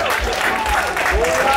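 An audience in a festival reading tent applauds, dense steady clapping throughout the short stretch, with voices mixed in.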